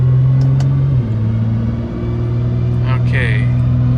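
A Nissan GT-R R35 on flex fuel runs on a dyno, a loud low engine drone that drops in pitch at a gear change and keeps humming, close, with a person speaking over it.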